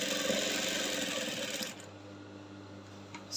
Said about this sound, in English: So I'm sewing right now.